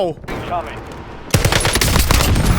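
Rapid automatic gunfire erupts in Call of Duty Warzone, loud bursts following a quieter opening with faint game sounds, and a voice speaks over part of it.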